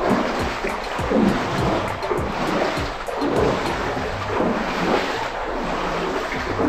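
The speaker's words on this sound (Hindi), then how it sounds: "ये जो पानी की आवाज़ आ रही है मेरे पैर से आ रही है" Footsteps wading through deep, cold water in a cave stream at Robber's Cave, Dehradun: a steady flowing rush with repeated splashing strides, close and continuous, no talking.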